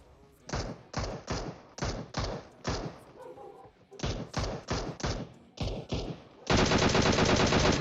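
PUBG Mobile gunfire: bursts of automatic shots in quick clusters, loud and close, ending in a sustained dense volley of rapid fire.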